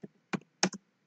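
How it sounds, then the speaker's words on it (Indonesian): A few quick keystrokes on a computer keyboard, four soft clicks in two pairs, close and quiet against silence. "Nah, saya ketik kembali selamat datang"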